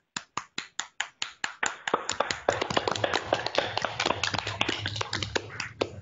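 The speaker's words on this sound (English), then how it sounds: "Well, let's have applause first." Classroom applause in an Arabic language class, opening with about a dozen slow, sharp separate claps before the whole group joins in a dense, fast round of clapping that carries on for several seconds.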